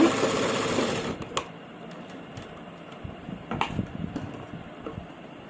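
A sewing machine runs a single line of stitching along the fabric of a kameez back neckline. A steady mechanical whir plays close and alone, louder at the start, with a few sharp clicks after.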